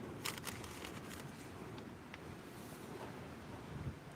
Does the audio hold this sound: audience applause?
no